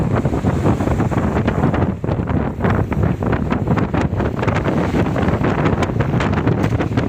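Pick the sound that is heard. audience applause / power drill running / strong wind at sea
strong wind at sea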